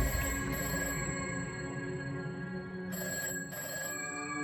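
An old-fashioned telephone bell rings in short bursts over a steady hum and soft background music.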